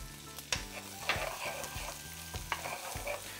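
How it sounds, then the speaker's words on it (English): Shallots, ginger and garlic fry in a hot pan for Hainanese chicken rice, a steady close sizzle broken by several sharp scraping stirs of a utensil, with no talking. "add the shallots, ginger, and garlic. And give a little more heat. Okay, we're gonna fry these until aromatic."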